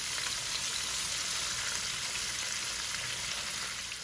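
Shrimp frying in a pan for pineapple shrimp fried rice, a steady, even sizzle up close with no talking, holding constant throughout.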